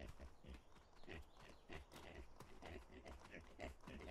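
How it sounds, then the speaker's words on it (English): Pigs in the survival game Atlas grunt and oink repeatedly over a busy, rhythmic backdrop of footsteps and game ambience, the animal calls coming in short bursts at close range. "I got four pigs."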